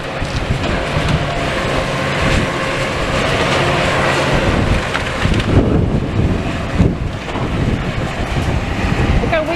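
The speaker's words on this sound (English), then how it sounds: "That's how windy it is." A strong wind roars loudly and continuously on a building demolition site, buffeting nearby with rough, rumbling gusts and occasional rattling.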